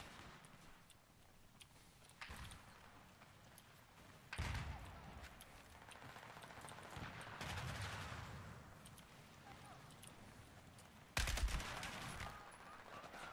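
Gunfire in the video game Battlefield 4: several loud bursts of shots break through a constant noisy battle background, with the sharpest burst near the end.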